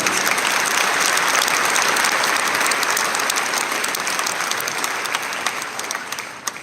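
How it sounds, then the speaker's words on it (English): An audience at a secondary school graduation ceremony applauds in a dense, sustained wash of clapping that tapers off gradually toward the end. "let's have a round of applause for those who worked hard to prepare this event and venue"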